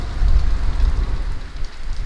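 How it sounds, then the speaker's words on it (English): Heavy rain with hail pounds down outside a mountain shelter on a mountain bike trip, a dense, steady roar with low rumbling, close and loud throughout with no voices. "If we were out there right now, we would be getting demolished by this rain and hail."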